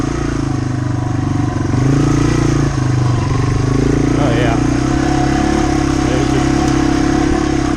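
A Yamaha TW200 motorcycle on big quad tires rides through mud, its loud single-cylinder engine droning steadily up close while someone talks over it.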